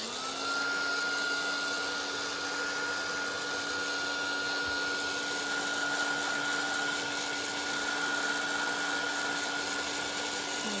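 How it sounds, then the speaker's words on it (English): A handheld heat tool blows hot air to dry coffee-dyed paper, a steady electric whine and rushing airflow that holds constant throughout. "Just quickly get my heat tool and, oh, just dry that coffee off."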